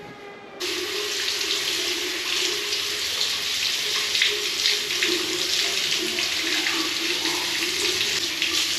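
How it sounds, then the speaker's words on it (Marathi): A tap runs hard and steady as an AC filter is rinsed under the stream, a loud continuous gush of water splashing close up. "let's go to wash this direct पाण्याखाली टाकू आपण त्याला"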